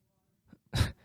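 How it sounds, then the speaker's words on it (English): A single short, close belch bursts out after a brief quiet stretch, with a faint vocal sound just before it. "No, sorry, that was a burp."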